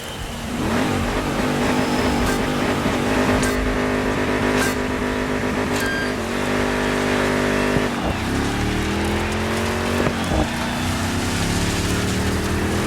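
A pickup truck racing engine in the DIRT 5 video game, built like a trophy truck, drones loudly and steadily throughout, with rising revs and gear shifts, no voices.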